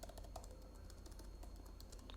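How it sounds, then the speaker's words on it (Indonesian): A computer keyboard clicks in a quick, steady patter of light keystrokes over a constant hum, faint and close. "klik tombol spasi di keyboard untuk melihat supporterku"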